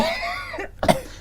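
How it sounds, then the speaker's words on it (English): A single sharp cough rings out close by after a stretch of faint murmuring. "Then he coughs."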